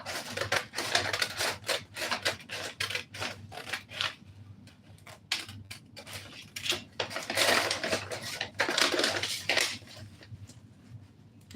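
Scissors snipping through paper as a flare dress pattern is cut out, a quiet run of crisp, irregular clicks and cuts with short pauses, close by and with no talking.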